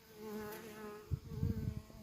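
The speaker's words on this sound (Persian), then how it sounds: "زنبور زرد اومد در ریچه زنبور اصل در اومد." Yellow wasps and honeybees buzz steadily around a hive, a close, continuous droning hum with overlapping wingbeats and a few louder passes near the end.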